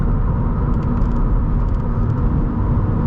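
Steady, loud interior engine drone and road rumble from a 2013 Subaru BRZ under way, a continuous low hum with faint high whines flickering above, no voices.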